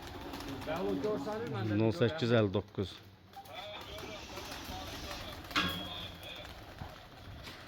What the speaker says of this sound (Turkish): Kuşlar qalxdı.